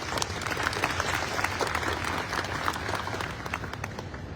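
An audience at a military change of command ceremony claps together in a steady, moderately loud round of applause, with individual claps clear against the crowd's general patter.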